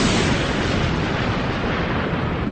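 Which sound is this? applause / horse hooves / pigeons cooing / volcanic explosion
volcanic explosion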